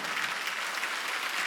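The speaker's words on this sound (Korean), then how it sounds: "박수 쳐요." Church congregation applauding during a Sunday worship service, a dense continuous wash of clapping from many hands, steady and fairly even throughout.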